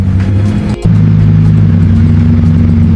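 Bugatti Chiron engine turning over and settling into a steady, loud idle, with a brief dip just before it catches and then a continuous deep rumble up close.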